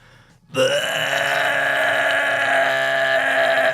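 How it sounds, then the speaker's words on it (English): A man lets out one long, loud, sustained burp that rumbles on for about three seconds at close range before cutting off. "there comes the burp, and I let the burp out"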